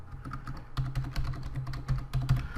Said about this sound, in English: So we're going to go ahead and type in edit.